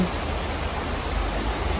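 Steady, continuous wash of flowing rainwater from frequent recent rains, a broad even rush with no distinct drops, close and fairly loud throughout.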